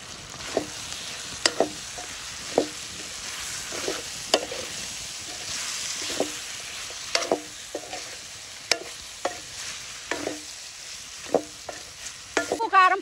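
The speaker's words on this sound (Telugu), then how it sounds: "ఉప్పు, కారం, పసుపు వేసిన తర్వాత కూడా ఒక 2-3 నిమిషాలు కలుపుతూ వేయించుకోవాలి." Chicken curry being stirred and fried in a pan with salt, chilli powder and turmeric, a village-style outdoor cook: repeated scraping clacks of a spoon against the pan over a steady soft sizzle, close and alone without talk.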